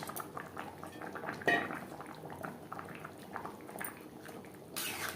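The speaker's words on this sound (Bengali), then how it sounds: "গ্রেভি বেশ ভালো করে ফুটিয়ে নেব" Fish curry gravy with taro stem and fried tangra fish bubbles and simmers steadily in a pot, a soft continuous boil with a brief clink of a utensil partway through.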